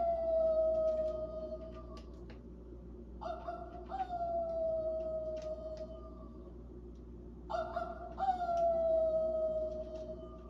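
A Halloween decoration plays a recorded coyote howl: three long, wavering electronic howls that rise and then slide down, separated by short pauses, over a steady low background hum.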